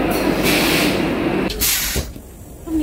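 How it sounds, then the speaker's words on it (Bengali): The Vande Bharat Express pulls out of platform 4 at Bhubaneswar station, a steady broad rumble and rushing noise of the moving train heard up close, with a short dip midway before the roar swells again. "নির্ধারিত সময় ছেড়ে দিল ট্রেন স্টেশন থেকে।"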